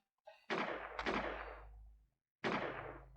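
Three loud, booming gunshots ring out in the sci-fi video game Space Haven, fired at an alien. The first two come close together and each leaves a long echoing tail; a third follows after a short silence.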